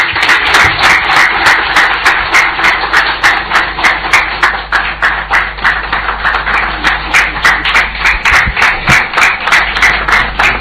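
Sustained applause from an audience at a presidential advisory group swearing-in ceremony, dense steady clapping with rhythmic bursts lasting throughout, fairly loud and continuous.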